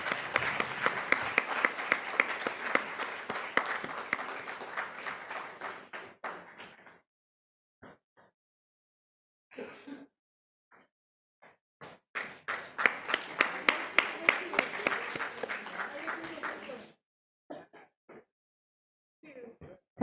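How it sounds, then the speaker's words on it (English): An audience at a disability-inclusion conference in India claps in two bursts, each fading into scattered claps and near silence. "Can we have a huge round of applause"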